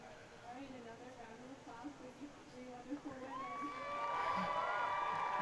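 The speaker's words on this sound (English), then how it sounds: "a huge applause here from the crowd" A crowd at a women's football match cheers and whoops, the roar swelling louder toward the end with high shouts rising above it.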